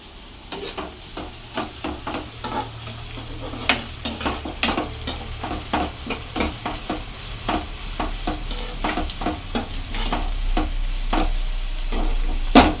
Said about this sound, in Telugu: అలాగే కరివేపాకు వేస్తున్నాను